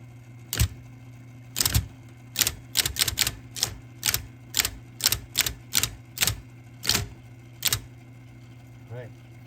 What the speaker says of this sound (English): And it works, so I can type something